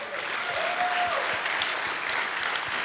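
Audience applause at a collegiate cyber defense competition awards ceremony, a steady wash of clapping with a faint tonal whistle-like sound briefly rising above it.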